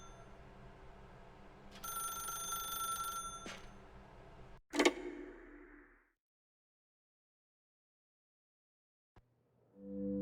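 A telephone in The Stanley Parable video game rings with a loud bell for a few seconds before a sharp clunk cuts it off and near silence follows.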